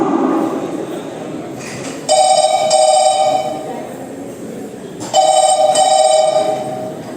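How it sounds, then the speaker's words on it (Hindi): A telephone rings indoors in two bursts of electronic trilling, loud and close over a steady background hum. "पता नहीं कहाँ कहाँ से रोज फोन बजता रहता है"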